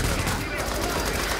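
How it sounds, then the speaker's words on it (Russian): Rapid gunfire from The Division, a shooter video game, in a dense continuous burst of shots with reloading, loud and close throughout. "Я сейчас по два выстрела сделаю и два раза перезарядился"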